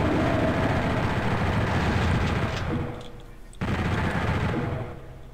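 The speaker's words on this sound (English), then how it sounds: "Right here is a good place for the chain gun." Sustained rapid chain gun fire in PSX Doom, a dense loud continuous roar of shots that dips briefly before resuming, heard close and alone.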